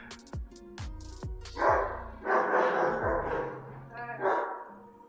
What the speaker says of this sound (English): Whatever you're doing out there that's making the dog bark.